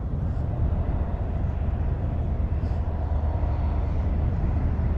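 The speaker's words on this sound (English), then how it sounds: "Look at that big freight train." A freight train rumbles past Blackhorse Road, London, heard from a drone above, a steady, heavy, broad roar that stays constant throughout.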